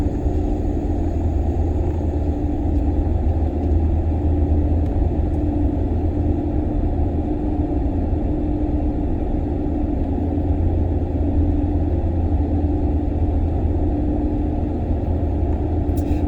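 A 2010 Ford F-150 Harley-Davidson pickup idles steadily, a low continuous exhaust rumble close by with no talking over it.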